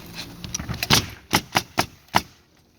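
A pneumatic nail gun fires five or six sharp, close, fairly loud cracks at a steady quick pace while roof shingles on a 7/12 pitch roof are nailed, with no talking.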